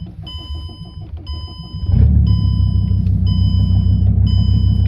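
A Mercedes W211 turbo diesel engine with a failed turbo idles nearby, its low rumble swelling sharply as it revs up midway and holding a steady throb, with repeating electronic beeps chiming over it.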